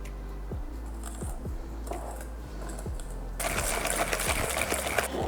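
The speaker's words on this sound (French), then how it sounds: "on va mélanger nos jaunes avec le sucre" Egg yolks whisked with sugar and cornstarch in a bowl, quick rhythmic clicking of a whisk against the sides, joined midway by a louder hissing wash of sound.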